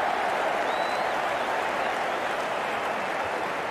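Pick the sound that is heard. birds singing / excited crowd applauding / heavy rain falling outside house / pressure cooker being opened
excited crowd applauding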